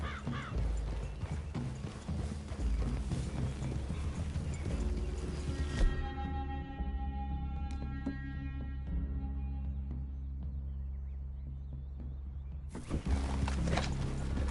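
Horses move in Red Dead Redemption 2 with steady hoof clip-clop and soft tack rattle, a brief whinny, and a dense continuous layer of game ambience and music underneath, loud and unbroken for the whole stretch.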